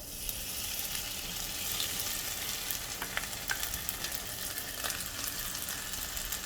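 Steady, crackling sizzle of chive and clam pancake batter frying in hot oil in a pan, a dense hiss with occasional sharper pops, close and continuous with no talking.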